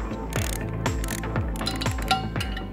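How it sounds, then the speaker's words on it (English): A torque wrench ratchets in short clicking bursts while tightening the bolts on a REMBE GRX rupture disc replacement, roughly five close, loud click runs spaced about half a second apart with no talk. "It is important to tighten the ruptured disc in 3 steps."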